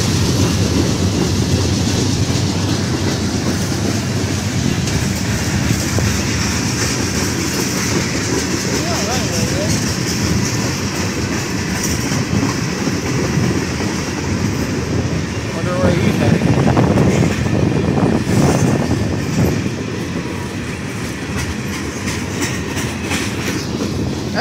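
Canadian National 8866 freight train rolling through Effingham, Illinois, its cars passing close by with a continuous rumbling roar, rhythmic wheel clatter, and wind noise buffeting the microphone, swelling slightly as heavier cars go by.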